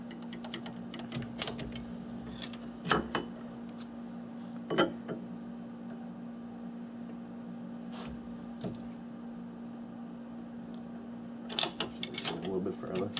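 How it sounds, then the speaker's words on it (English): A lathe carriage being hand-cranked along the bed, with soft gear and ratchet clicks and occasional clunks over a steady motor hum, close but quiet with no talk. "crank our carriage down to the other side."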